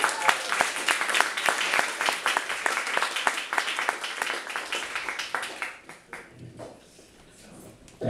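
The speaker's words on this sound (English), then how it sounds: "Thanks for applauding." Audience at a comedy show clapping, with distinct individual claps audible within the applause, fading out after about six seconds into quieter room noise and a few scattered sounds.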